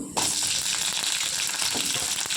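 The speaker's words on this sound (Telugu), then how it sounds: "కొద్దిసేపు వేగనివ్వాలండి" Urad dal and green chillies drop into hot oil in a kadai and burst into a loud, close, continuous sizzle with faint crackles, no talk over it.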